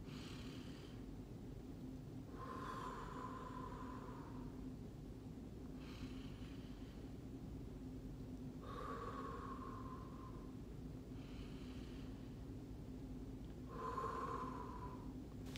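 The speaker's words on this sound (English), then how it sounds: "breathing in slowly, breathing out slowly" Slow, deep breaths drawn in and let out, about three unhurried cycles of soft airy rushes with a faint whistle at the peaks, heard up close over a steady low hum, with no talking.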